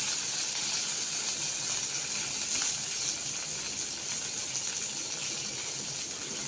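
Small shallots frying in ghee with curry leaves for a Coimbatore-style kalyana sambar tempering, giving a steady, close, continuous sizzling hiss with no talking.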